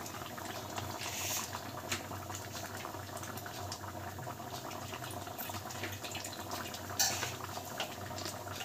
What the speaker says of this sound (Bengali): আর একটু ফুটবে, কারণ ঝোলটা আর একটু কমবে।